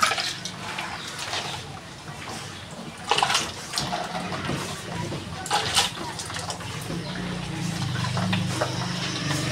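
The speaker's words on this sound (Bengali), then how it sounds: "এই গরম পানিটা দিয়ে আমি সুন্দর করে আগে উলানটা ধুয়ে নেব" Warm water splashes and trickles steadily as a cow's udder is washed by hand, with a few louder splashes along the way.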